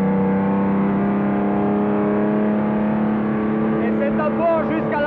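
A race car runs flat out on the Spa-Francorchamps circuit in 1962, its engine a loud, steady, close droning roar that holds constant throughout, with a voice talking over it.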